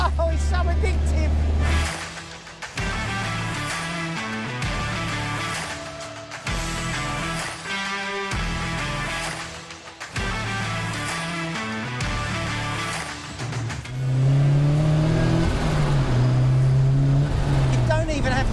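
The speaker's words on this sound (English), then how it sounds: "the best part about it is just that induction noise" A turbocharged Mazda RX5 accelerates hard with loud induction noise, a steady rising engine drone that drops briefly at gear changes and swells into a strong whine near the end, recorded from inside the car as someone talks over it.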